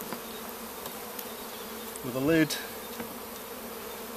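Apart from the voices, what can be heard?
honey bees buzzing around a hive feeder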